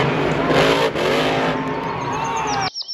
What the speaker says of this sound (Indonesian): Ada mobil monster.